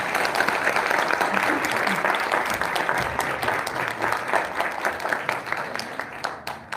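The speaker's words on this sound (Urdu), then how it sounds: "ایک دفعہ اور تالیاں ان کے لیے" Sustained audience applause at a religious gathering, dense steady clapping that thins slightly toward the end.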